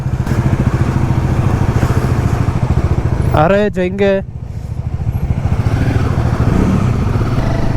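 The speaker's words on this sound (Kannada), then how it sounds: "ಇಷ್ಟು ಬೆಳಿಗ್ಗೆ ಬೆಳಿಗ್ಗೆ ಈ ರೇಂಜಿಗೆ ಸೌಂಡ್ ಮಾಡ್ತಾ ಇದೆ ಗಾಡಿ" A motorcycle engine idles early in the morning with a steady throbbing rumble, close by, while someone talks briefly over it.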